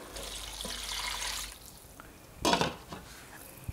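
Water is poured into a pot of cashew sauce as it cooks, a steady splashing that swells briefly in the middle, with faint clinks of a pan or utensil.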